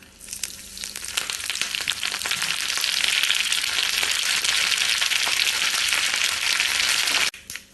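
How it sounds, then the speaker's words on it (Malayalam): Mustard seeds, fenugreek, dried red chillies and curry leaves splutter in hot oil for a Kerala jackfruit kalan tempering, a loud, close crackle of rapid pops and hissing that builds and holds steady, then cuts off sharply. "കുറച്ച് കറിവേപ്പില ഇട്ട് കടുക് പൊട്ടിക്കാം"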